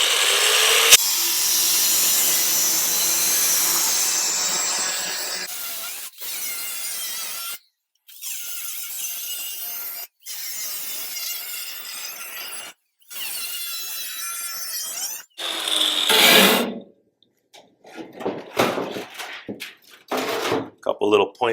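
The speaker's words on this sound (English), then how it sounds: "I'm going to fire up the cutting wheel, remove this headlight. Just going to pick a random spot and start slicing." A cutting wheel grinds into the metal to slice off a COE truck headlight, a loud harsh whine held for several seconds, then broken into shorter cuts with pauses, and someone talks in between.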